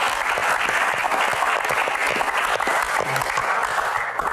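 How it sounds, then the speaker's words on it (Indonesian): A crowd at a panel discussion claps continuously and evenly, a dense, fairly loud applause lasting the whole stretch without any pause. "Tepuk tangan dulu buat Shirley."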